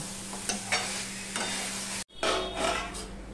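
Posto, a poppy seed dish, cooks in a covered pan over a low gas flame, giving a steady soft sizzle with occasional stirring scrapes and a brief break in the sound partway through.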